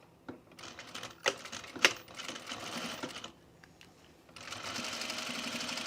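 A sewing machine stitching along the curved facing edge of an Auburn blazer, running in short, faint, uneven bursts with pauses and clicks, then a steadier hum toward the end.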